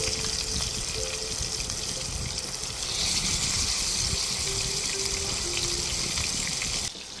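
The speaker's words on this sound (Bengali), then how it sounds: "তেলটা গরম হয়ে গেছে এখন এর মধ্যে কই মাছ দুইটা দিয়ে দেব" Two koi fish sizzle in hot oil in a frying pan with a loud, dense, continuous crackle up close that swells slightly partway through.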